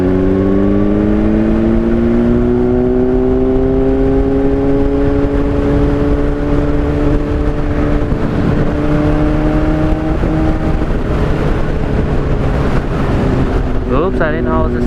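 Honda CBR600RR sport motorcycle riding through Valley of Fire State Park, its engine droning steadily with rising harmonic pitch, then a sudden quick-shift near the end breaking the tone amid constant loud wind buffeting.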